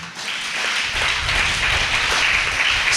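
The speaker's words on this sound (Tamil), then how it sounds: "ஏசப்பாவுக்காக ஒரு கைத்தட்டு கொடுங்க." A church congregation at a Sunday service claps together in a dense, steady wash of applause that holds level for the whole stretch, with no voices rising above it.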